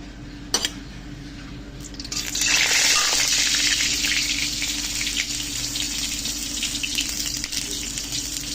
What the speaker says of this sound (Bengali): তেল দেখো গরম হয়ে গেছে, তেলের মধ্যে দিয়ে দিলাম আমি